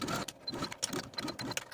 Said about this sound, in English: Take it to your machine and edge stitch all along the bottom of this neckline from shoulder to shoulder.